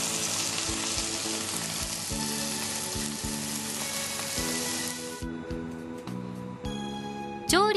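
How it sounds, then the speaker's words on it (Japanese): A steak sizzles loudly and steadily on a Hitachi HT-D20TFS induction cooktop for about five seconds, then the hiss thins out under a low electronic hum, ending with a bright rising chime. "適温になったらステーキを入れて調理をしてください。"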